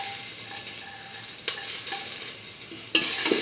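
Garlic frying in a pan while being stirred, a steady sizzle with a few sharp scrapes of the spoon against the pan, fairly close and without talk.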